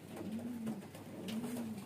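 Baby highflyer pigeons cooing close by, two soft, low, drawn-out coos in quick succession, faint and alone with no talking.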